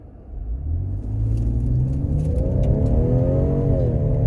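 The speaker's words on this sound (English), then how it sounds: "You can hear that exhaust now, though. The little turbo exhaust." A 2019 Ford Edge ST with a turbo engine pulls away from a standstill in sport mode. The low exhaust rumble swells and its pitch climbs steadily as the car accelerates, close and loud.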